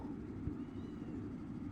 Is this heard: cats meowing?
yes